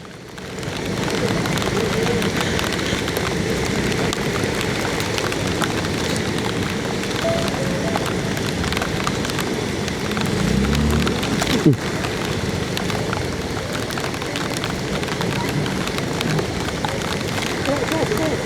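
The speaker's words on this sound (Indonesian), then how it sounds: "Kami sampai di kota ini ketika hujan sangat deras sekali." Heavy rain pours steadily in the town of Toli-Toli, a dense, constant wash of noise that holds at the same level throughout, with a brief thump near the middle.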